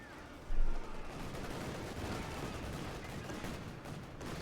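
Bazooka and machine gun fire in the Company of Heroes 2 strategy game, a sharp blast near the start followed by a dense, continuous rattle of gunfire and battle noise.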